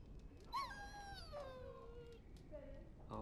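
Dog in Dragon Age Origins giving a soft, high whimpering whine that slides downward, a few plaintive cries over quiet background.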